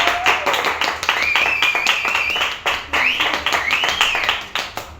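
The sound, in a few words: audience applause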